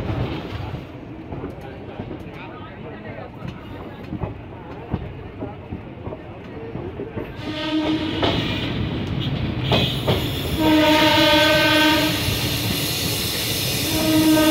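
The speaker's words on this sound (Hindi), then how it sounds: "अपनी ट्रेन चलेगी अब कानपुर सेंट्रल के लिए" A passenger train on the Khajuraho to Kanpur Central line rumbling and clattering as it begins to roll, the noise building steadily with rhythmic wheel clacks and squealing from the rails, recorded close from inside the train.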